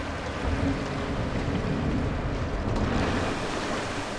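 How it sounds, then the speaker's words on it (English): Steady broadband rush of a waterfall beside a roller coaster in the video game Planet Coaster, a continuous loud wash of falling water with no talk over it. "We just passed a waterfall right next to us"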